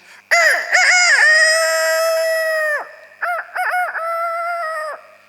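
A rooster crows loudly and close, one long drawn-out call followed by a shorter broken crow after a brief pause.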